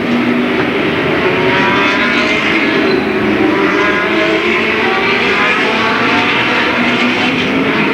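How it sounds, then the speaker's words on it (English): Pack of late model stock cars from 1991 at Louisville Motor Speedway roaring down the front straightaway together, a loud, dense, continuous engine drone with shifting pitches that holds steady for the whole stretch. "we've got the top 7 cars all racing down the same straightaway together"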